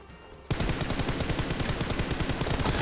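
An M4 rifle in PUBG Mobile opens up after a brief lull, firing a rapid sustained automatic burst of sharp, loud, evenly spaced shots that runs to the end.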